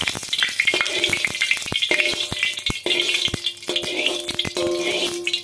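Cooking oil sizzles and crackles in a very hot wok being seasoned to make it non-stick, loud and close, with sharp spatula scrapes and clicks against the metal as the oil is spread around.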